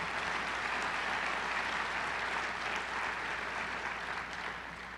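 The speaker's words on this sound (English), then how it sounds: "Give him a round of applause" An audience at a college president's opening day address claps in a steady round of applause that holds strong, then begins to thin out toward the end.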